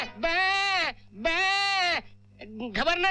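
A man imitates a goat with his voice, giving two long, loud, wavering bleats followed by a shorter, choppier bleat, close and clear with nothing else over them.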